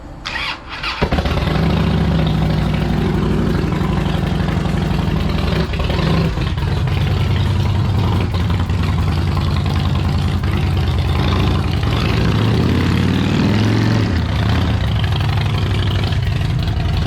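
A Harley-Davidson motorcycle engine cranks and fires up, then runs loudly and close with a steady, deep, lumpy idle rumble that continues throughout.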